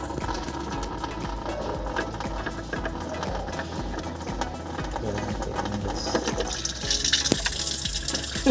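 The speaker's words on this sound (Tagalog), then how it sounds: "kailangan nakabukas ito para bumuga lahat ng tubig" Coolant water drains from the radiator drain plug of a Toyota Vios XLE CVT, a steady gushing, splashing flow that runs continuously and grows slightly louder toward the end.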